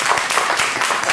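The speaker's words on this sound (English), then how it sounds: "A round of applause for her." Brief applause from a live psychic show audience, dense and fairly loud clapping filling the whole short moment.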